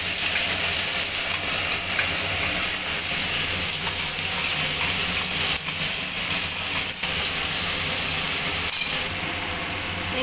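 Whole spices such as cardamom, clove and cinnamon sizzle loudly in a pan as ground spice paste goes in, a dense, continuous close-up frying hiss with faint stirring clinks, no talking.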